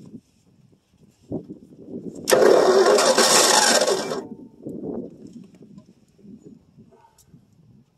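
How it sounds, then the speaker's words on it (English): A 1965 Ford Fairlane 500 with a 289 V8 gets a cold-start attempt after three years of sitting: one loud, harsh burst of about two seconds, set among quiet low rumbles and handling noises. "let's take it and fire her off again"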